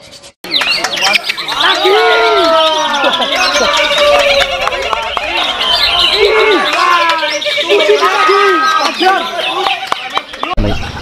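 A green leafbird (cucak hijau) sings a long, rapid run of varied whistles and chirps at a bird contest, loud and continuous, with voices and crowd noise underneath.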